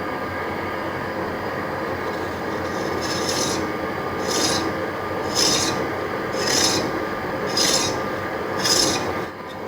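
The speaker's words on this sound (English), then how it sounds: "The problem is I just can't cut straight with a hacksaw." Hacksaw cutting metal stock for a Harrison universal mill table nut, a steady rasping back-and-forth of even strokes, with a brighter scraping pulse on each stroke roughly every second, close up and with no talking.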